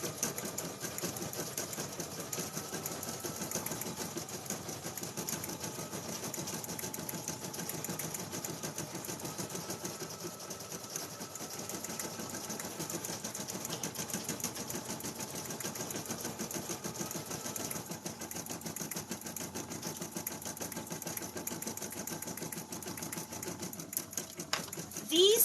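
An embroidery machine stitching feltie designs onto felt, giving a continuous rapid mechanical chatter that holds steady and even throughout, with faint talk underneath.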